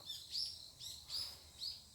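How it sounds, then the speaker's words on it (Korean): Faint, high bird chirps repeat in a quick rhythm, about five short calls from some distance away over quiet background, in a mountain valley below Daegwallyeong, South Korea. "새소리 들리네요."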